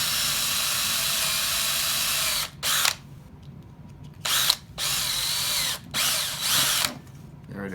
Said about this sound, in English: try not to drill into my hand.